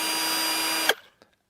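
A power drill runs at steady high speed during a drilling test, a loud continuous motor whine that cuts off abruptly, followed by a couple of faint clicks.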